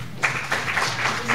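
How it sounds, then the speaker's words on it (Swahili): Audience applause at an official launch event for a national programme distributing improved seed to farmers, a short burst of scattered clapping that stays moderately loud and fairly close throughout. "Makofi tafadhali."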